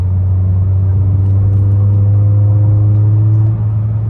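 Steady low engine drone from inside a 2018-2022 Honda Accord Sport during paddle shifting, a constant rumble with faint whine, no sharp revving peaks; continuous and fairly loud.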